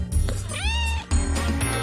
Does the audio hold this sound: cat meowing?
yes